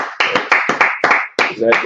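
Several sharp audience claps in a loose rhythm at a talk, about seven in two seconds, close and loud, with a voice talking between them.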